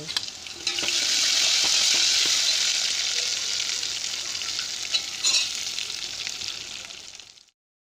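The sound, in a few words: spinach dal cooking and sizzling in a pan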